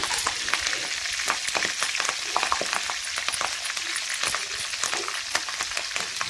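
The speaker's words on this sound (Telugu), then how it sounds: "తాలింపు అంతా వేగుతుంది" Steady, close sizzle of Indian tempering spices frying in hot oil for tomato pickle, dense crackling with scattered sharper pops throughout.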